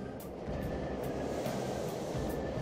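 A subway-style train rolls into a station in Mementos, the underground world of the game Persona 5 Royal, a steady loud rumble with faint rail squeal and soft periodic clacks, heard alone without voices.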